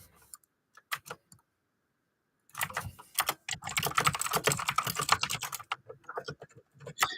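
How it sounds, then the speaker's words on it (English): Keyboard typing with rapid, uneven key clicks during a live stream, starting with a few scattered taps and then building into a dense, steady burst of loud, close-up keystrokes. "you're going to hear a lot of clicking during this live stream."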